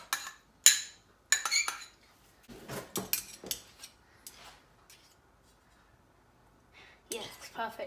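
Metal spoons clink and scrape as one spoon clears food off another, giving short sharp scrapes and taps, some faint, with quiet gaps between them.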